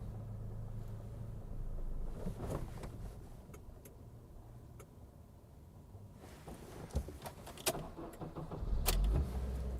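A 10-year-old Honda car with a manual clutch idles with a low engine rumble, a few small clicks and rattles inside the cabin, then gives a louder lurching shudder near the end as it stalls.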